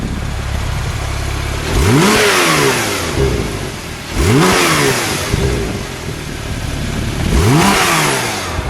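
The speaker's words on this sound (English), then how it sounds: "Listen to the exhaust on the Sports Plus." A 2019 Porsche 911 Turbo S Cabriolet exhaust in Sport Plus mode, three sharp revs climbing and falling back to a rumbling idle, loud and close.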